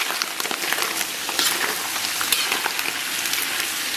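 Pork belly stir-fries in a wok with ginger, garlic and Pixian chili bean paste, giving a dense, even crackling sizzle throughout, close and alone without speech.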